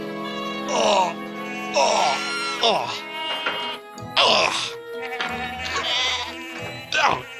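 Several loud, wavering bleats in quick succession, like goats calling close by, with a low rumble and other noise underneath.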